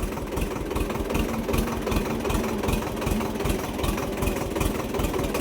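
A tractor carrying a load of cucumbers chugs along a muddy farm track, its engine a loud, steady, rhythmic diesel throb with regular low pulses throughout and no voices.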